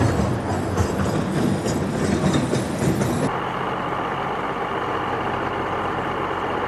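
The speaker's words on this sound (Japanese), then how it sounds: "100年近く屋久杉を運び続けてきたトロッコ。" A forest railway trolley used for decades to haul Yakushima cedar logs rumbles steadily along its track, a loud continuous rolling roar with clattering that eases into a smoother drone partway through.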